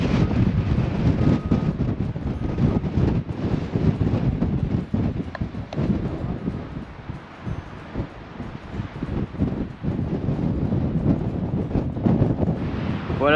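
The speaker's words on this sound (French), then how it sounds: "Il y a énormément de vent, comme vous voyez." Strong wind on the road to Masca, Tenerife, buffets the microphone with a loud, continuous low roar and rumbling gusts for the whole stretch, and no voices are heard.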